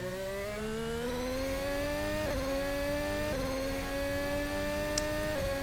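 A Formula 1 car engine in the racing game F1 22 screams steadily at high revs through a fast lap. The pitch climbs gradually, dipping briefly at each gear change before rising again, loud and continuous with no talking.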